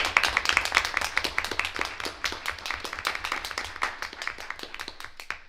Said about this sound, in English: So let's have a little bit of a round of applause.